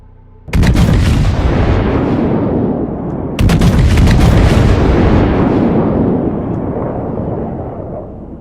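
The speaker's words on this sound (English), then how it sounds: "Bismarck continued to unleash his second and third salvos at HMS Hood, with his fourth straddling her." Naval gun salvos from the battleship Bismarck fire at HMS Hood, heard as two loud, booming blasts each followed by a long, rumbling roar that slowly fades.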